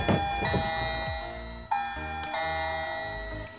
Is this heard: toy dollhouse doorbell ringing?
yes